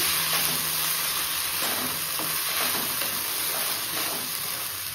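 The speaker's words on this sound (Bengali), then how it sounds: "একটু ভেজে নেব সবজিগুলোর সাথে" Steady, dense sizzling of washed rice and vegetables frying in a pan for vegetable pulao, a continuous hiss with faint stirring scrapes.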